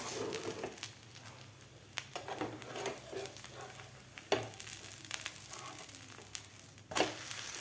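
A barnyard millet and potato pancake (dhirde) fries on a pan, a faint low sizzle broken by scattered spatula taps and scrapes, with a sharper clatter near the end.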